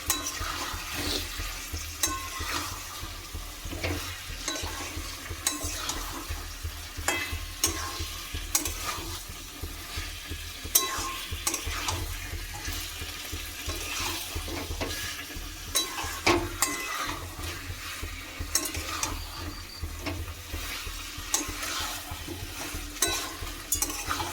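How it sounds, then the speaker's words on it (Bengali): Chicken pieces and potato chunks are stir-fried in a pan with a continuous sizzle, while a spatula scrapes and turns them in quick, repeated strokes close by, with no talking. "আলু দিয়ে একটুখানি কষিয়ে নেবো"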